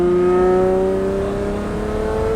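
A straight-piped Lamborghini Murcielago with E-gear transmission holds a loud, close, droning engine note whose pitch rises slowly and steadily, with no clear shift break.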